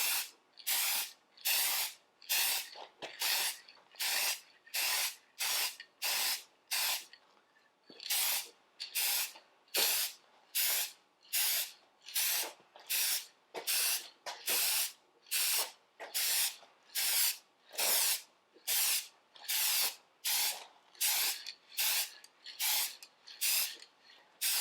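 A spray gun lays a second coat of paint on Ferguson TED20 tractor parts in short, regular hissing bursts, dozens of close, loud passes separated by brief pauses.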